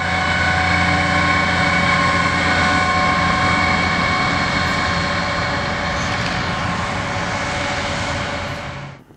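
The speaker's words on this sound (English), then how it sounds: "The driver of the second MOW vehicle was nice enough to give a fellow Railfan a horn salute." Horn salute from a maintenance-of-way rail vehicle, a steady sustained tone held loud and close for about nine seconds with engine rumble beneath, then cutting off abruptly at the end.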